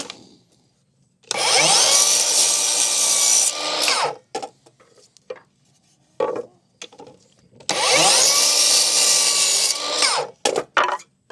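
A power saw cuts cedar boards to identical length and angle in two loud, sustained bursts of a few seconds each, separated by quieter clatter and handling knocks.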